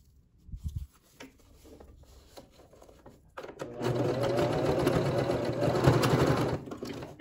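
A sewing machine stitches fabric scraps, starting with a few brief taps and handling sounds, then running in a loud, steady whir of rapid stitching for the second half.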